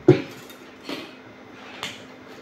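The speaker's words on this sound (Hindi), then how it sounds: "मैं थोड़ा सा शहद इसमें मिक्स करूँगी" A spoon stirs honey into a face pack in a small bowl, giving three light, separate clinks against the side, close and quiet, with no speech.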